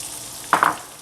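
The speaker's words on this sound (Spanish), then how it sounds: "Vamos a dorar un poquito nuestras cebollas." Onions sizzle softly as they brown in a pan, with a couple of brief scraping stirs near the middle and a quiet, steady frying hiss otherwise.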